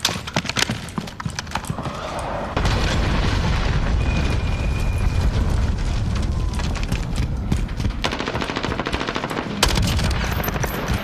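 Cruise missile strike and gunfire in the Call of Duty Modern Warfare video game: a loud sustained roaring blast with dense rapid popping shots and rattling bursts throughout, no talk.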